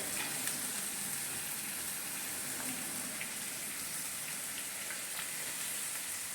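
Green chillies hit hot oil for a fish curry, giving a steady, broadband sizzle that runs unbroken and fairly loud throughout with a faint crackle, no voices.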